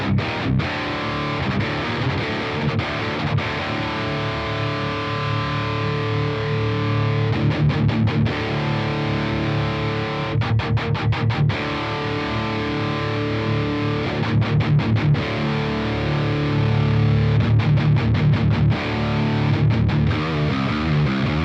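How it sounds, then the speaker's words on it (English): A heavy, dense doom fuzz guitar tone from the Archetype: Rabea amp plugin, sustained distorted chords ringing loud and thick with brief choppy stops, no voices. "By adding fuzz on top of that, it gives you like that doom, disgusting, horrible sound"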